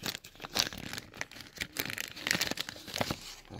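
A plastic packet around a Scanmatik 2 Pro OBD2 car diagnostic scanner being torn open, with close, dry crinkling and crackling in irregular bursts for several seconds and no talking.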